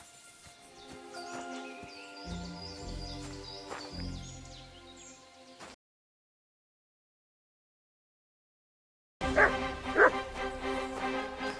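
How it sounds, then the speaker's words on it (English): In the medieval video game Kingdom Come: Deliverance 2, a dog barks in a quick series of close yaps over background game sound, falls silent for a few seconds, then the game audio resumes louder. "Fucking dog!"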